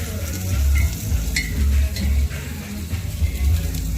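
Garlic and ginger paste sizzles in a hot pan while a spoon stirs it, with repeated scraping strokes and a low rumble underneath, loud and close, with no talking.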